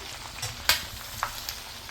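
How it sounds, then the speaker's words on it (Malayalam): Pork pieces frying in a pan and being stirred, a steady sizzle with a few scraping clacks of the spoon against the pan, close, no voices. "ബാക്കിയെല്ലാം കൂടെ ഇതിനകത്തേക്ക് ഇട്ട് ഇളക്കി കൊടുത്ത്"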